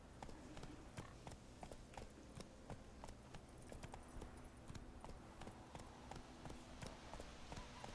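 Roach, a horse in the video game The Witcher 3, clip-clops along at a steady trotting rhythm of crisp, evenly spaced hoofbeats that continue throughout at low volume.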